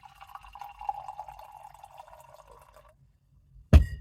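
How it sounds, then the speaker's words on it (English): Beer pours into a glass with a steady trickling, gurgling fill for about three seconds, then stops, followed by a sharp close knock at the end; no talk. "Let's pour it into the glass."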